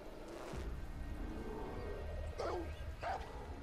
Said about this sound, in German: ein Hund. Die haben einen Hund.